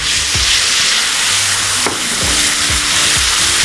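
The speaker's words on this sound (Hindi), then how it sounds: "अब गया जी दही, और दही डाल के एकदम चलाते रहना है" Yogurt being stirred and fried in a pan for a chicken burrito filling: a loud, close sizzle with repeated scraping stir strokes in an uneven rhythm, no talk.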